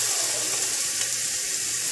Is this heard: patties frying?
yes